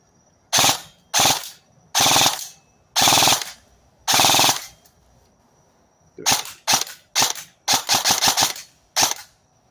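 KWA KM16-SR12 airsoft rifle firing with a tracer, five loud close bursts of rapid full-auto fire, then a pause followed by a quicker series of shorter bursts, with a faint whine between.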